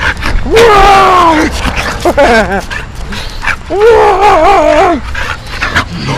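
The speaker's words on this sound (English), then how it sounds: "She's a big killer dog!" A dog, a big dog, lets out high, drawn-out whining yelps and a short run of quick yips, close by in a driveway, in bursts with pauses between.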